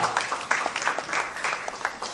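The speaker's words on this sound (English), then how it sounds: "Once again, a round of applause for Nidhi Sureka." A crowd applauding at a book launch for phonetics books, many hands clapping in a dense, lively stream with distinct individual claps popping out, steady throughout.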